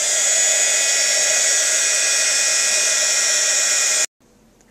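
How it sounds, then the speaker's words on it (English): An embossing heat gun blows continuously for about four seconds. Its loud, steady fan hiss and whine cuts off abruptly, leaving quiet room noise. "Use my heat tool once again."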